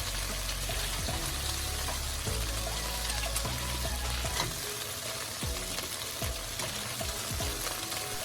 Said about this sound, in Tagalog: Gawin natin to hanggang sa ma-sear lahat ng chicken